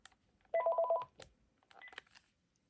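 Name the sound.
Panasonic KX-TG5583 cordless phone intercom tone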